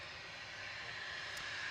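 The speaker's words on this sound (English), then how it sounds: "Embraer Phenom 300 departing now" Embraer Phenom 300 business jet departing Manchester Airport, a steady broad engine roar held at moderate distance throughout, slowly building in loudness.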